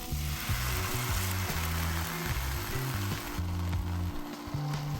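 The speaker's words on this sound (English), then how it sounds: "Now we place it in a preheated pan." A broth-dipped tortilla sizzling in a preheated pan, steady close frying crackle throughout, with some rhythmic clanking over it and no voices.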